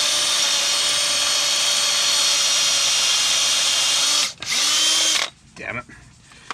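A power drill bores a hole in the center of a 1961 Pontiac Laurentian's harmonic balancer, a loud steady high whine that cuts out, returns briefly, then stops, leaving faint handling noise.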